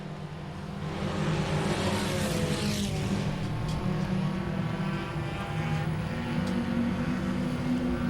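Race cars in an enduro at Langley Speedway drone around the track in a continuous, layered engine roar, heard from a distance with rising and fading passes but no speech.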